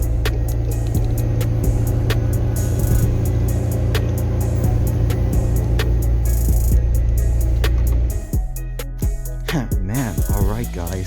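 Loud, steady engine roar from a McLaren 720S Spyder Halloween Edition heard from inside the car on a ride-along. The engine drones throughout, then shifts and eases near the end as the note breaks up.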